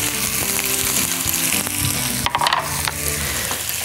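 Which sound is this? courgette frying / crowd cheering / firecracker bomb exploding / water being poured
courgette frying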